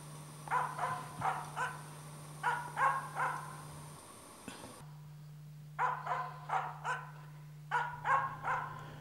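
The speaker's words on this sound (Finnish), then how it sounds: "Jos koira ei tiedä varmuudella linnun sijaintia, se aloittaa kyselevän haukun" A Finnish Spitz hunting birds gives short bursts of two or three questioning barks, pausing between each group, heard at moderate distance over a steady low hum.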